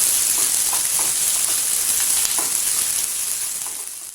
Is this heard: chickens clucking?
no